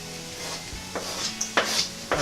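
Chips fry with garlic in beef dripping in a pan, a low steady sizzle broken by a few scraping stirs and light knocks of a utensil against the pan, close and alone.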